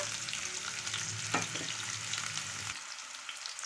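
Sliced onion and cinnamon frying in a pan for chicken pulusu, a steady close sizzle that cuts off abruptly near the end.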